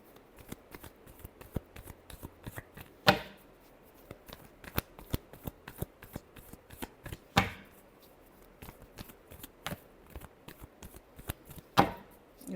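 A deck of tarot cards being shuffled over and over, with quiet riffling and crisp rapid taps broken by three louder bursts where the deck is bridged or squared. Close, soft, with no speech.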